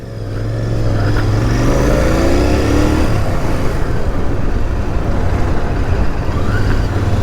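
Royal Enfield Continental GT 650 parallel-twin motorcycle under riding: a loud engine drone rising in pitch as it accelerates, then a steady roar mixed with heavy wind rush, with no speech.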